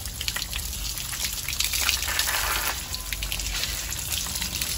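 Water running from a hose or tap to wash soil off the roots of a ten-year-old adenium plant during repotting, a close, continuous splashing gush with shifting spatter.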